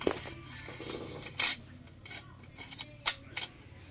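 A new drill bit is pushed into a tool resting on a one-metre aluminium rail, giving sparse metallic clicks and scrapes, with two sharp bright clacks standing out from a quiet, low background hum.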